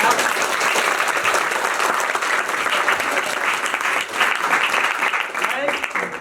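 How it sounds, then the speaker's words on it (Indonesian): Loud, dense applause from the audience at an Indonesian book discussion of Balada Si Roy, steady clapping filling the whole stretch with a brief dip midway. "beri tepuk tangan dulu yang meriah kawan-kawan"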